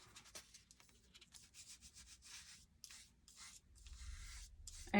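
A brush rubs red paint onto a watermelon-themed fake cake in soft, steady strokes, a faint close scratchy texture that comes and goes.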